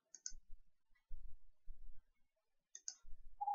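Computer mouse clicks come in a few short, soft, isolated taps separated by quiet pauses, close and faint, while setting up a Kodi media player.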